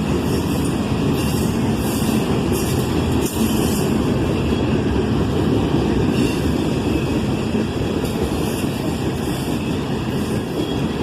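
Norfolk Southern freight train NS 8099, led by a Southern heritage unit, rolls past close by with a loud continuous rumble, rhythmic wheel clatter and a faint squeal, with no voices.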